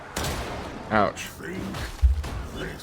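Enemy gunfire in the video game Darktide, a few muffled shots and thuds mixed with grunts and game effects under a steady noisy bed.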